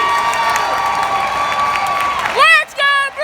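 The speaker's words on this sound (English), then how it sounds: "For the first time, the crowd wakes up." A baseball crowd cheering at PNC Park during a Brewers-Pirates game, a sustained loud roar of many voices with a steady whistle tone, then giving way to close, loud individual shouts near the end.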